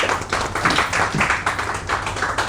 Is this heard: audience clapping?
yes